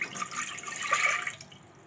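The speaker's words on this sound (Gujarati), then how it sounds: "કુકરમાં આપણે પાણીનો એક ગ્લાસ એક નાખી દેશું" A glass of water pours briefly into a metal pressure cooker, a short gurgling splash that swells and then trails off.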